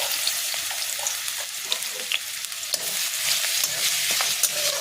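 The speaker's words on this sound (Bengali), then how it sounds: "দিয়ে রসুনটাকে একটু ভাজা ভাজা করতে হবে।" Garlic paste sizzles steadily in hot white oil in a kadai, a dense continuous frying hiss with occasional brief pops and stirring scrapes, close and fairly loud, with no talking.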